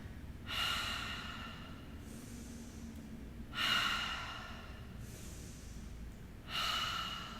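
Three forceful exhaled 'HA' breaths during a Pilates workout, evenly spaced about three seconds apart, each a loud breathy rush close to the microphone with quiet pauses between.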